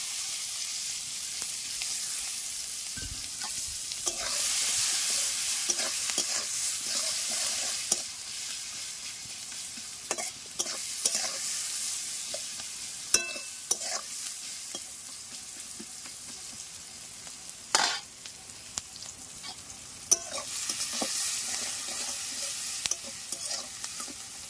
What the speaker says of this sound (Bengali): ওই তেলের মধ্যে দিয়ে দেবো 5 ফোড়ন, তেজপাত, আর দিয়ে দেবো পেঁয়াজ কুচি।